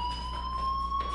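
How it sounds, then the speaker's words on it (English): Fire alarm ringing in the Life is Strange video game, a steady, piercing electronic tone held continuously at an even level. "do you hear that fire alarm? That means you should be outside."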